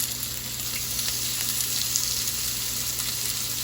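Salmon kabobs sizzle steadily on an oiled stovetop grill, a close, continuous hiss of frying with no pauses and no talking.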